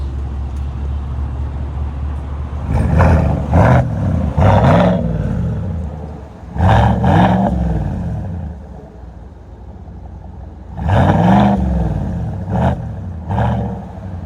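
A 2020 GMC Sierra AT4 with a 6.2L V8 and Borla Atak exhaust revs up to its limiter in several loud, deep bursts, each rising and falling back to a rumbling idle between pulls.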